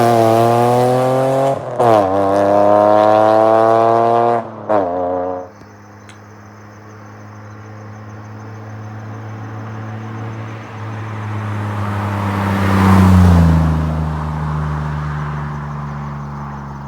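A 2003 Mitsubishi Eclipse GT with a 3.0 V6 and an Invidia N1 exhaust, its engine revving hard through several gear changes close by, then settling into a lower drone as it cruises with a rising surge.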